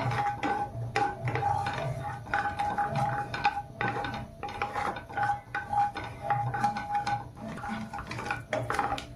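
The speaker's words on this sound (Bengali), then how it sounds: "সর্ষেগুলো ফুটতে শুরু করেছে অল্প অল্প" Black mustard seeds spluttering in hot oil in a pan while cooking sooji idli, a quiet irregular crackle of small pops, with scraping stirring sounds and a faint steady hum.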